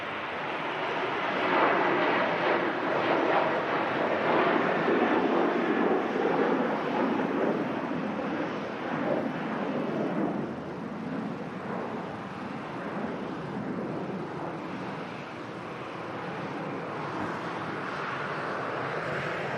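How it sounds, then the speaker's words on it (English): A Ryanair jet departs Manchester Airport for Tirana, a steady, rushing engine roar heard from a distance that swells early and then holds under wind noise, with no voices. "Here goes the Ryanair for Tirana"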